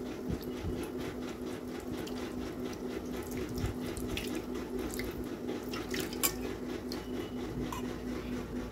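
Water is poured steadily over a small idol, giving a faint, continuous trickling and splashing with scattered drips throughout.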